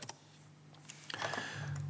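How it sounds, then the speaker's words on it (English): A few quiet keypresses on a computer keyboard during computer drafting work: a couple of sharp clicks at the start, then a short cluster of taps, all faint and close in an otherwise quiet room. "I push escape on my keyboard a couple of times."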